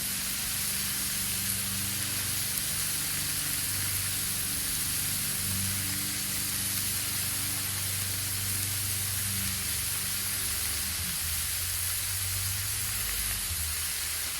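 Al pastor meat and cilantro frying on a 36-inch Blackstone griddle give a steady, loud, close sizzle and hiss that runs unbroken throughout, with no voices.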